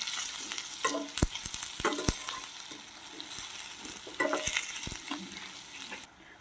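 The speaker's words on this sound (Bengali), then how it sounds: "এটা আমি কিছুক্ষণ ভেজে নেব।" Capsicum, carrot, onion and green chili frying in a pan for Manchurian, a close continuous sizzle broken by sharp spatula scrapes and knocks, with no voices.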